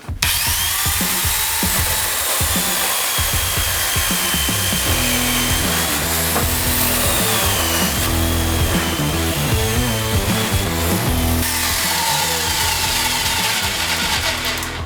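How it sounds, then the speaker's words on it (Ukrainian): A YamaMoto electric chainsaw cuts through a 100x100 timber beam, whining loudly and steadily with a gritty, rasping bite into the wood for the whole stretch, close up and without talk. "давайте спочатку подивимося, як пилка себе веде на брусі 100 на 100"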